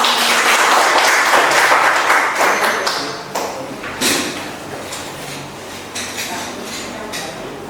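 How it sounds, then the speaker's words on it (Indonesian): Audience applause at a gathering, a loud full burst of many hands that soon thins into scattered, fading claps and small knocks with brief voices underneath. "Boleh kita sambut dengan tepuk tangan untuk Bapak"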